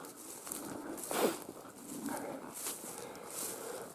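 A hunting dog in an autumn forest gives a few yelps and whimpers against steady rustling outdoor background noise, moderately close.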